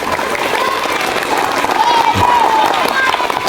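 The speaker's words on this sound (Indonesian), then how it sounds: "Tepuk tangan untuk pemimpin upacara." A crowd at a school ceremony gives sustained applause for the ceremony leader, a dense patter of many hands building slightly louder toward the end, with some voices mixed in.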